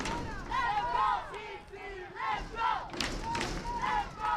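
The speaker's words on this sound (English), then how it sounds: "Now the crowd's actually chanting." Soccer crowd in a stadium at a Sin City FC versus LA Force match, chanting in rising, swelling waves of massed voices with thuds underneath, heard from a distance.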